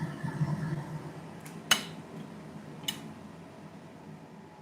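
A metal fork scrapes and clinks on a pan and plate while plating hot free-range eggs, with two distinct bright clinks over a soft kitchen background.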